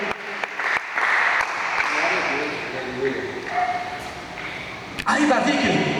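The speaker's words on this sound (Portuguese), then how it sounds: "Então aplauda o Senhor essa noite, em nome de Jesus" A church congregation applauds during a worship service, a sustained wash of clapping under a preacher's loud voice, with a sharp crack near the end.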